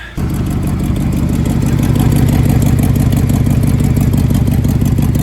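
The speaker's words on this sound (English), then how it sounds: "The clip you guys just saw, the Y pipes aren't bolted." A Ram 1500 truck engine fitted with shorty headers and unbolted Y pipes bursts into a loud raspy roar right after a quick start, then holds a harsh, ticking, leaky exhaust rumble close up.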